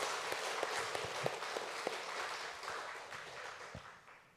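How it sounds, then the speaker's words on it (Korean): Congregation clapping during a Sunday afternoon church service, a dense wash of applause that holds steady then gradually thins and fades toward the end. "우리 박수 한번 쳐주시면 감사하겠습니다"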